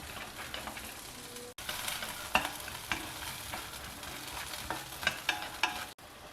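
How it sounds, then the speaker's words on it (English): Groundnuts and onions are stir fried in a pan, giving a steady close sizzle with scraping spatula strokes and small pops, and a couple of brief breaks in the sound. "stir fry them also along with the other ingredients"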